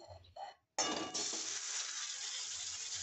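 Rice-flour batter for chitoi pitha hits an oiled wok with a sudden loud sizzling burst, preceded by a couple of soft knocks and a short pause, then settling into a steady, gradually fading hiss.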